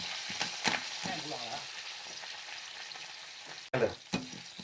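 Onion frying in cold-pressed oil with curry leaves crackles and sizzles steadily at close range, with a few stirring knocks and a faint voice in the background.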